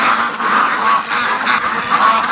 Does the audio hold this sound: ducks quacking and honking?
yes